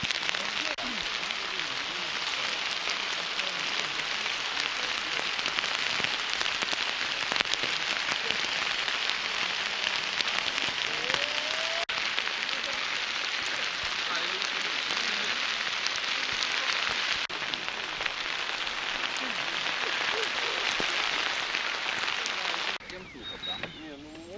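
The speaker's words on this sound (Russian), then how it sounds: "Конкретний град." Steady, dense pattering of hail hitting a surface in the Carpathian mountains in May, continuous and loud throughout, with faint voices talking in the background.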